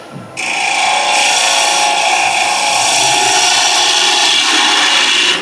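A wood turning tool cuts into spinning wood on a lathe, shaping a vase form: a loud, continuous, steady hiss and tearing whir that begins abruptly and holds evenly throughout, close up, with no speech.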